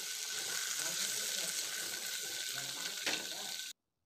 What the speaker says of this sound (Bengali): তেল গরম হয়ে যাওয়ার পর আমি এখানে আবার আলু, রাঙা আলু মানে মিষ্টি আলু যেটাকে আমরা বলি, আর সজনা কাঁড়া একসঙ্গে দিয়ে দিলাম।